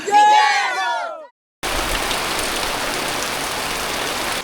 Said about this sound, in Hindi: ज़ोर की बारिश आ गई